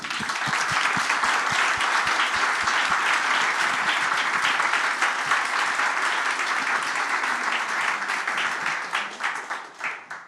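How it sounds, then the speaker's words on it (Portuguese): An audience at the FliMUJ 2025 film festival panel bursts into sustained, dense applause that carries loudly for several seconds before thinning out and fading at the end. "Uma salva de palmas."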